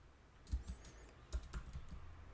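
Several crisp keystrokes on a computer keyboard while entering HTML code, falling in short irregular clusters, close and fairly soft, with no voices.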